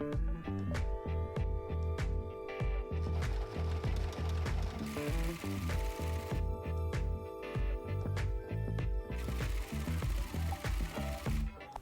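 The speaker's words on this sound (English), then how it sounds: "I'm really impressed with the serger today." An overlock serger sews a seam on leggings, its fast, steady mechanical whirr running in bursts with short pauses and a rhythmic clatter, close and loud, with no talk.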